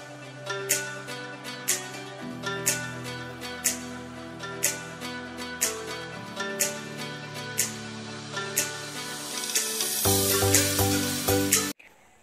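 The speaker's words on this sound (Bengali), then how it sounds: "তো এখানে আমার আলুটা নাড়া হচ্ছে" Potatoes seasoned with salt and turmeric being stirred in a hot pan, a steady sizzle with regular spoon scrapes every second or so, swelling into a louder, denser hiss near the end.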